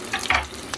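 Onion rings fry in hot oil at home, a brief, close bubbling sizzle with a couple of brighter crackles and no voices.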